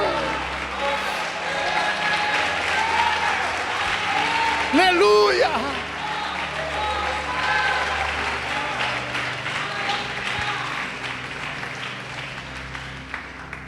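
A church congregation claps continuously and evenly throughout a service, with a loud shouted exclamation rising briefly over the applause and a preacher's voice underneath.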